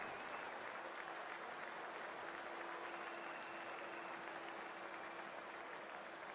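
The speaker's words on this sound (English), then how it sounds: "the crowd is making plenty of noise for the opening game" A continuous wash of crowd noise and cheering rolls through a cricket stadium at the opening match in the Cricket 24 video game on PS5, steady and moderately distant, with a faint sustained tone underneath.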